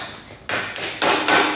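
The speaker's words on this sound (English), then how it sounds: "hammer it down till it's done." Black wheel caps with metal inserts being hammered onto a cart wheel axle, about four close, loud blows, each ringing bright and lingering before the next strike.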